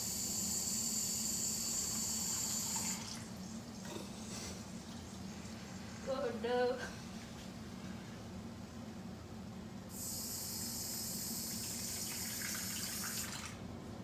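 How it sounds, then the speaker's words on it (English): Water poured from a tap into a pan for taco meat in a home kitchen, a steady faint hiss running for a few seconds at the start and again near the end, with a brief spoken exclamation between. "And add 3/4 cup of water."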